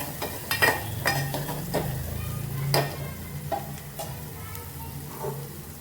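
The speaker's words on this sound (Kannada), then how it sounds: "ಎಣ್ಣೆ ಒಳಗೆ ಚೆನ್ನಾಗಿ ಫ್ರೈ ಮಾಡಿರಿ." Masala spices and chili powder frying in oil in a home kitchen pan, a low steady sizzle broken by repeated spoon taps and scrapes at an irregular pace.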